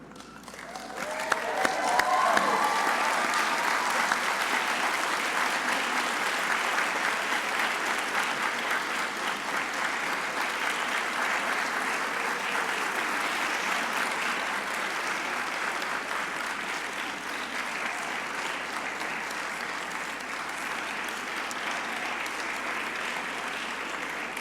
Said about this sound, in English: give them the round of applause that they deserve